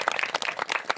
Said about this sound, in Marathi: आपण आपल्या गुणी गायक मंडळीसाठी एक टाळ्या वाजवून छान स्वागत करूया.